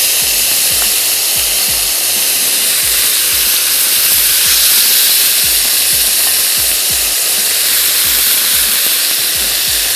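Chicken sizzles loudly and steadily in a hot pan, spread out to sear with grill marks, a continuous frying hiss with scattered crackles and the odd scrape, close and alone for the whole stretch.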